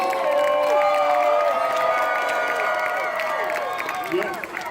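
Applause and cheering from a large audience at a Power Rangers reunion panel at LA Comic Con, a dense, sustained roar of clapping with shouts and whistles that eases slightly toward the end.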